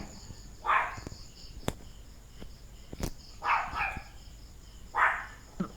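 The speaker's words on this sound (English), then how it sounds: "My dog is barking." A dog barks three times at a distance, in short separate bursts over faint crickets and low background noise.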